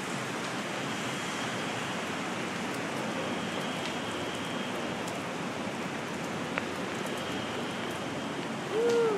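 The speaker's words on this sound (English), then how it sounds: "look, it's just pouring, pouring." Heavy rain pours steadily in Chicago, a dense, continuous hiss of water close by, loud and unbroken, with a faint whooshing swell at the very end.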